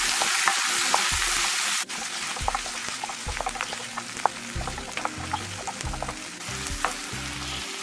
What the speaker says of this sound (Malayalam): നമുക്ക് അതിലേക്ക് തക്കാളി ചേർത്ത് കൊടുക്കാം.